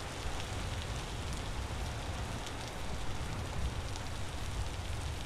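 Steady rain falls in the video game Vintage Story, a dense, even hiss of drops on surfaces that carries on without a break, fairly soft and constant, with no voices over it.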